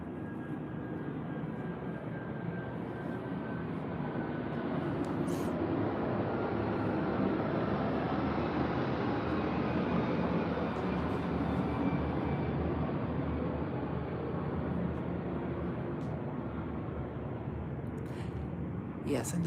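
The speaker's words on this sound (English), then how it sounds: "it's a plane coming" A fixed-wing airplane passes overhead outdoors, a steady broadband engine roar that swells to a peak midway and slowly fades, with a few faint clicks and knocks nearby.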